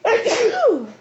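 A single sneeze close by, trailing off into a brief voiced sound at the end.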